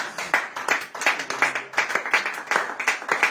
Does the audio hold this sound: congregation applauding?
yes